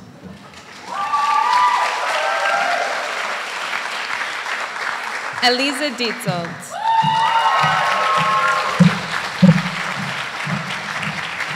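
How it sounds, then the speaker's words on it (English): A graduation crowd claps and cheers continuously while a voice announces a graduate's name over a loudspeaker. The applause swells around the name and carries on underneath the announcement. "Amidst the cheers and applause, Eliza walks across the stage"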